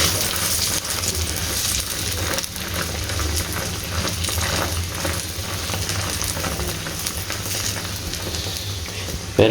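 Pizza paratha sizzling on a hot oiled tawa, a steady dense frying hiss with crackling that runs unbroken throughout, close and fairly loud.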